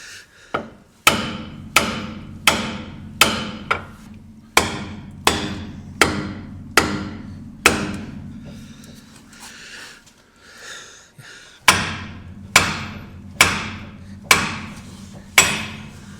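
A hammer strikes a steering knuckle ball joint on a Jeep with Teraflex ball joints and Synergy knuckles. Hard metallic blows ring close and loud in a steady rhythm, about a dozen strikes with a short pause partway through.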